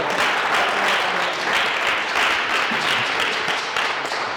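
An audience applauds in a dense, steady wash of clapping that holds at an even level for several seconds.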